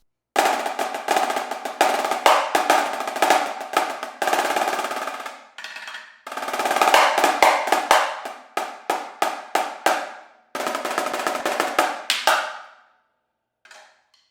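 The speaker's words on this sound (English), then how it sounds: "This is a marching snare drum. It sounds like this." A single marching snare drum plays crisp, rapid rolls and rudiment patterns, loud and close, broken into several short bursts with brief pauses.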